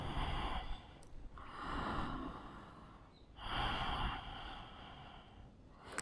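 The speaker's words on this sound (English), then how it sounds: "Breathing here" Heavy breathing held during a yoga pose, slow audible breaths alternating in long drawn-out waves with brief pauses between them, close and fairly soft with no talking.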